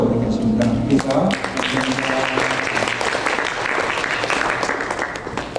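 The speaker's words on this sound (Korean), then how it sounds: "인사할 때 우리 박수로 하겠습니다." The congregation at a Sunday church service claps, with sustained applause swelling after a spoken cue and continuing steadily as a voice fades beneath it.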